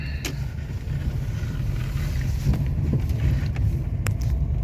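A car driving home along a country road, with a continuous low road rumble and wind noise inside the cabin, broken by a few faint clicks and taps.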